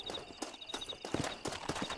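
Horse hooves clip-clop in the video game Red Dead Redemption, a close, regular rhythm of sharp hoofbeats over a faint steady tonal whine.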